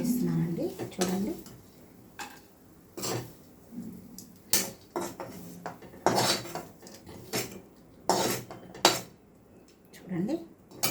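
Clatter of a spoon and pan as bitter gourd fry is scooped into a serving bowl, with repeated sharp metallic scrapes and knocks at close range, partly under someone speaking.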